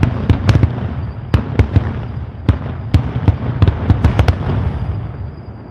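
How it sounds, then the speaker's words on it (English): Fireworks crack and pop in rapid, irregular bursts over a steady crowd-like rumble, some blasts sharp and close, others softer and farther off. "while they're shooting the fireworks"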